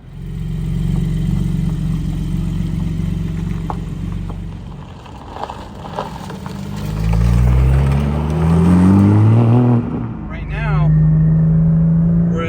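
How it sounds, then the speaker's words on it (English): A 2020 Porsche Cayman GT4 with a remote valve exhaust, valves open, revs and drones, a deep low rumble rising and falling in pitch as it accelerates, loud and close. "Open valves, a little bit of drone, not too crazy, and definitely on the low end there's drone."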